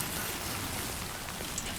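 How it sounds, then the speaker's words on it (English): Rain falls in the video game Death Stranding 2 as a short, steady hiss of drops on surfaces, soft and even throughout with no voices. "It's raining."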